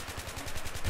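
LSAT belt-fed light machine gun firing in Battlefield 3, a rapid, evenly spaced burst of about nine shots within one second, loud and close.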